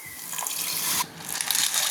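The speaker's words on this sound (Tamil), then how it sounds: "இது கூட இப்போ தண்ணி போடலாம்." Water poured into a cooking pot while preparing a masala egg dish, a continuous splashing gush with a brief dip partway through, close and fairly loud with no talking.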